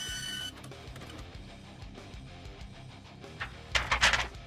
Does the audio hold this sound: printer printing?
yes